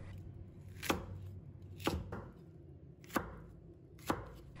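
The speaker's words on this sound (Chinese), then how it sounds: "然后切成菱形片" A knife chops vegetables into diamond-shaped slices on a cutting board. Four crisp, distinct strikes land about a second apart, close and clear against a quiet background.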